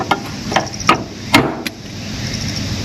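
Several sharp hammer blows strike at uneven intervals, loud and close, followed by a quiet pause.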